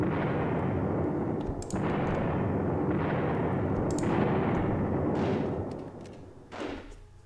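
Anti-tank gun firing at a heavy tank in a John Tiller wargame set at Rossienie, a series of loud booming artillery shots with sharp onsets, several heavy blasts in a row trailing into rumbling decay.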